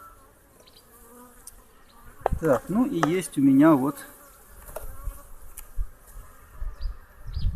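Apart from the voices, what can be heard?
honey bees buzzing at hive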